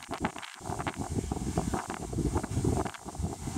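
Wind blowing outdoors near a large oak tree, a steady rough buffeting and rustle that hits the microphone in gusts throughout, loud and close.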